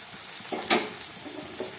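Onion and tomato frying in a pan, a soft continuous sizzle broken by one sharp spatter burst and a few light stirring knocks.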